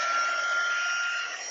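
A heat embossing tool blows hot air in a steady, fairly loud whirring rush with a faint whine, holding constant for the whole stretch with no talking.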